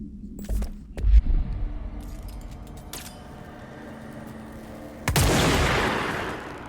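The Pierce sniper rifle in the video game Control fires a couple of sharp shots early on, then a heavy explosive blast near the end rumbles and decays, loud with no talk.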